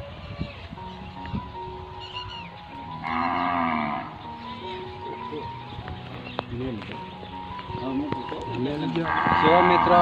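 An injured cow with a bandaged leg moos several times, loud and close, with drawn-out calls spaced through the scene while people talk nearby.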